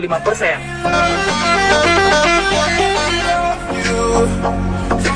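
A bus telolet musical horn plays a rapid, repeating multi-note melody, loud and close, with voices and background noise around it.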